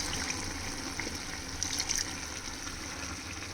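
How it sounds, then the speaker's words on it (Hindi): Water poured into a cooking pot in a home kitchen, a steady broadband splashing gush that runs the whole time, moderately loud and close with no speech over it. "और अब इसमें थोड़ा सा पानी और डाल दें"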